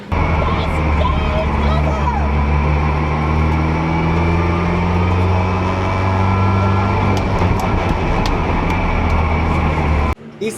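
A 600-horsepower GRC all-wheel-drive Beetle rally car rumbles loudly and steadily from close range, its deep engine drone and harmonics holding for about ten seconds before cutting off abruptly.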